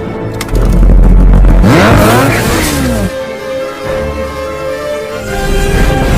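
A snowmobile roars loudly through a Johnny English film chase, its engine revving and rising in pitch under a busy soundtrack, then settling into a steady drone.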